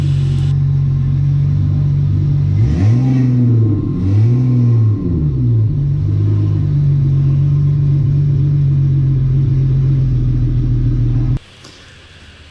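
A 1974 Mercury Capri with a swapped-in 2005 Mustang engine drives off, its loud, close engine rumbling steadily with two rising-and-falling rev swells early on, then cutting out abruptly near the end.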